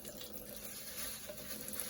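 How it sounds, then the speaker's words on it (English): Warm water trickling from a tap while an old Bachmann HO model locomotive tender is cleaned, a faint steady soft splashing trickle with no talk. "I've just got a little trickle of warm water, some soap on a toothbrush"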